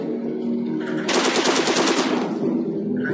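In the video game Silent Storm, a rapid burst of automatic gunfire rattles for about a second over a low ambient game hum, with no talking during the shots.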